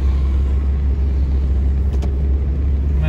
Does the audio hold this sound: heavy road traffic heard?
yes